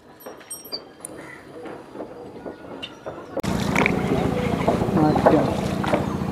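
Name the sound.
boat on the Kunti river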